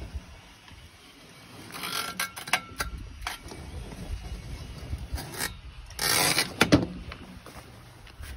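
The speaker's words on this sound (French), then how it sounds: "on remet un petit coup de rouleau qui va être beaucoup plus facile que le premier" A roller pressed over a pottery clay slab on a tabletop slab roller, giving soft irregular rubbing and scraping with a few sharper rasps and a louder rolling pass near the end.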